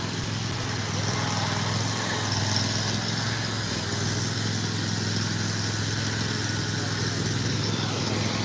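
A John Deere lawn mower engine runs steadily outdoors on a hot day at a park rally in Red Hook, New York, giving a constant loud drone throughout with no pauses.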